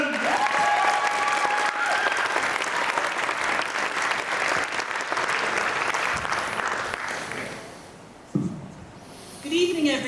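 A crowd applauds and cheers loudly to welcome a speaker onto the stage at an International Women's Day event, steady dense clapping with whoops that fades out toward the end.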